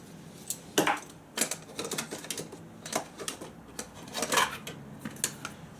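Metal pieces of a hard-anodized Trangia 27-8 UL-HA alcohol stove cook set, including its fry pan and holder, clatter and clink as they are handled, several sharp knocks and rattles spread over a few seconds, close and fairly quiet.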